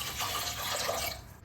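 Water pours steadily into a cooking pot holding chopped shallots and garlic for sambar, a continuous close splashing stream that runs for about a second before it cuts off.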